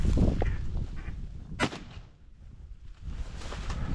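A single sharp shotgun blast fired at a flushing duck during a Colorado marsh hunt among reeds, standing out clearly against outdoor background noise.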